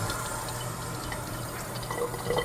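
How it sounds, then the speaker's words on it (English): Water pours steadily into a container holding soapy water and submerged beauty blender sponges, a continuous close filling splash with no talking. "Let's add a little bit more water."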